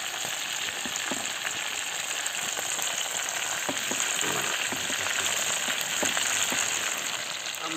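A whole chicken fries in hot oil in a large pan, giving a steady, close sizzle with scattered pops and crackles throughout and no voices.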